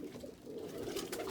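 Low, rolling coos from loft-kept fancy pigeons, opals and Indian fantails, run on continuously at close range and moderate level, several birds overlapping with no voices.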